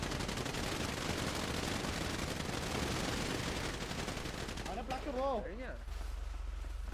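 Dense, continuous automatic gunfire in a gang war shooter video game, loud and sustained, and a voice speaks briefly near the end.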